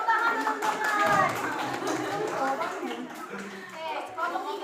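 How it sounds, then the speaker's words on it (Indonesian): Students in a micro-teaching classroom clap together as a group, brisk hand claps mixed with children's voices and chatter, moderately loud and continuous throughout. "Tepuk tangan, teman-teman."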